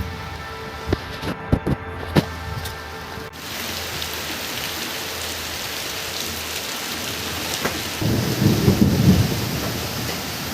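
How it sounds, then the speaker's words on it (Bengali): Heavy rain falls outdoors with thunder, a few sharp cracks early on, then a steady drumming downpour and a deeper rolling rumble near the end. "জোরে জল চলে এসেছে কিছু করার নেই"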